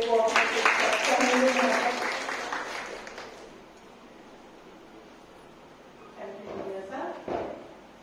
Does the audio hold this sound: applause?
yes